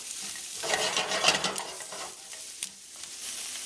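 Curry crab with canned coconut milk being stirred in a pot, a spoon scraping and sloshing through the liquid with a soft sizzle underneath, close and moderately loud.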